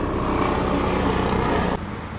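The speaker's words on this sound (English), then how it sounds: "Great timing with the helicopter." A helicopter passes overhead, a loud steady rotor and engine drone filling the whole stretch before it drops off sharply near the end.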